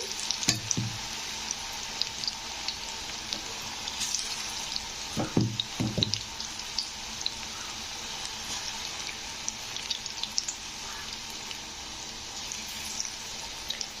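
Spoonfuls of grated radish batter dropped into hot oil for fritters, a continuous bubbling sizzle broken by a few soft clatters and thumps of utensils against the pan.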